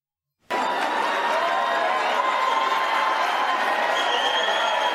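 Sudden broad wash of crowd applause that starts abruptly and holds at an even level, dense clapping with faint cheering mixed in.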